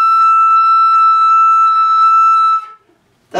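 Sustained high, piercing flute tone in the third octave, played with alternate fingerings, held steady for a few seconds with slight fluttering texture, then cutting off.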